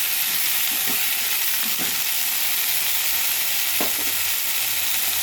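Chopped okra pieces sizzle and fry steadily in a hot pan for a stew, a dense continuous hiss with a few brief clicks of stirring, with no talking.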